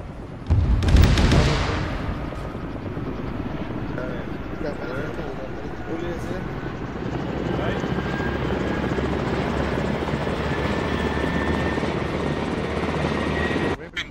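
A video game helicopter thumps with a steady rotor drone throughout, starting with a loud impact burst near the beginning, while players talk over it.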